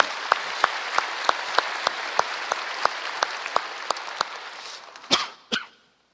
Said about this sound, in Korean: 다시 한번 박수합니다.